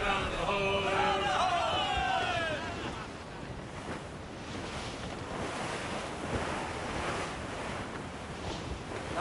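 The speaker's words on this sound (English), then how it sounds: "That wind's trouble, Captain Cormac." Wind and ocean surf at sea from a sailing ship in Assassin's Creed Rogue: a steady broad wash of waves and gusting wind, with a whistling, tonal rush early on before settling into a continuous roar.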